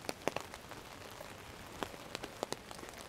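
Heavy rain falling on a North End street, a steady faint wash of drops with scattered sharper patters and splashes close by, no voices.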